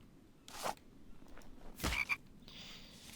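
A frog croaks outdoors near a planned walkway among buildings, giving a few short raspy calls spread over a few seconds, moderately close against a quiet background.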